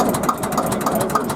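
Allgäuer diesel tractor engine runs close by at a classic car show, a steady pulsing idle with evenly spaced low thumps.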